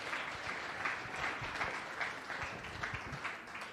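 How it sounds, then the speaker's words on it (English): Arena crowd at a combat sports fight event applauding steadily, a continuous wash of clapping and cheering heard at a moderate distance, even and unbroken throughout. "Big round of applause"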